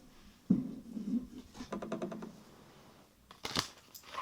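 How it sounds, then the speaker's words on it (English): An oracle card deck being shuffled by hand, a quick run of close, crisp papery riffling and flicking clicks with a couple of louder soft knocks, no talking. "So I'm going to shuffle this deck"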